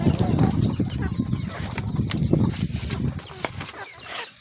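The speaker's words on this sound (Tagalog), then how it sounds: "Ito naman merong mga manok na nakakulong." Caged chickens on an island farm cluck and flap their wings in bursts, close and moderately loud, with a busy layer of fowl noise throughout.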